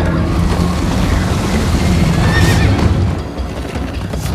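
Horse neighing in the Minecraft Story Mode video game during a chase, a whinny over galloping hoofbeats and loud, busy game sound, steady throughout.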